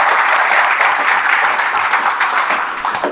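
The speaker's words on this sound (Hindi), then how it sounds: "तो इस डेडिकेशन के लिए खुद के लिए एक बार जोरदार ताली मारो तुम लोग" Loud, dense applause from a student audience of Air Force, Navy and Coast Guard trainees at an interaction session, steady clapping filling the room for about three seconds with no pause.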